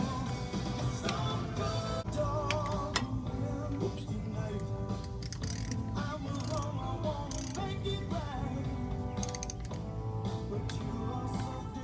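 Ratchet clicking as a 17 mm nut is tightened during a brake job on a 2006 Ford E350 Super Duty van, faint repeated ticks and metallic rattles over steady workshop hum, close by.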